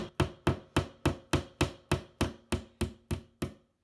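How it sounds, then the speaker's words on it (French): A small hammer drives a small nail into a bedroom wall, about a dozen evenly spaced, sharp knocks in a steady rhythm, close and clear with no talking. "avec mon petit marteau, mon petit clou"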